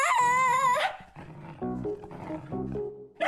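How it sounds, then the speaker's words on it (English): A cartoon dog lets out a long, wavering howl, then breaks into a series of shorter whimpering yelps, close and clear with no talk. "Ungrateful dog."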